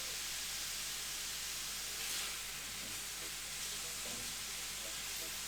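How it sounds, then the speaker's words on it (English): Food sizzles steadily in a frying pan, a constant soft, broad hiss with faint crackles and light stirring sounds and no break in the frying. "You can hear that sizzle."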